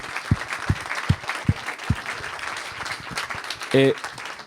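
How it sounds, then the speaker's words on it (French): Scattered audience applause for a team at a studio naming ceremony for a university sports science faculty's 50th anniversary, with a few distinct claps early and a brief voice near the end. "j'aimerais bien qu'on les applaudisse très chaleureusement"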